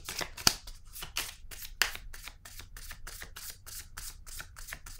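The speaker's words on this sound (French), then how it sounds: "Je vais piger une carte noire." Cards from a tarot deck shuffled and drawn, a rapid run of crisp riffling flicks with a couple of sharper snaps, close and alone with no voice.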